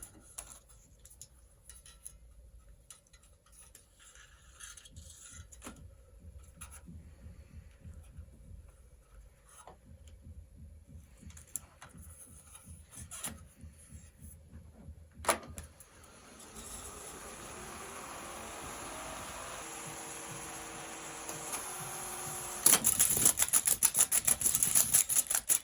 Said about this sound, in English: We're going to wind the tape onto this reel now.